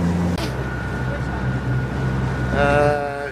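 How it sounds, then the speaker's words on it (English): A cruise boat's engine off Cuverville Island in Antarctica drones steadily and rises in pitch as the boat speeds up, with a voice talking over it. "I'm going to try and keep this engine running"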